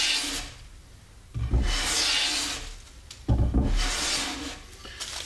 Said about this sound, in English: I'll just keep planing it here until it quits giving me a shaving.